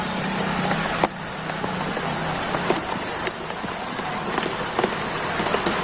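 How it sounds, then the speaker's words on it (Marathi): Steady heavy rain roars throughout, broken by sharp irregular clacks and pops like hailstones striking a hard surface, in a summer hailstorm in Raver taluka, Jalgaon district, Maharashtra. "पाऊस चालू आहे आणि राहून राहून राहून गारा हे बघा चालू झाला परत गारा पडायला"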